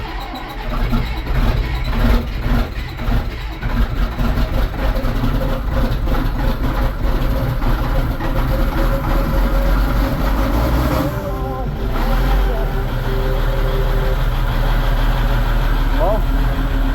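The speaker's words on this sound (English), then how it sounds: "But we'll see if the old 3394 case starts." An old Case 3394 tractor with wagons hooked up cranks and fires, then settles into a loud, rumbling diesel idle with a steady low throb, while a person talks over it.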